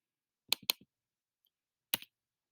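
Three sharp key clicks from a computer keyboard, two close together and then one more after a pause, fairly close and crisp in a quiet room.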